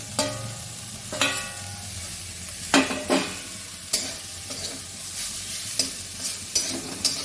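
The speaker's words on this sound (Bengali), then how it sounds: "দিয়ে একটু নেড়ে চেড়ে নামিয়ে দেবো।" Brahmi greens and potatoes are stirred in a pan over a soft frying sizzle, with repeated scraping strokes of a spatula against the metal landing every second or so, close and clear, with no talk.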